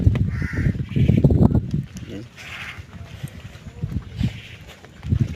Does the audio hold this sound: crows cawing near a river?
yes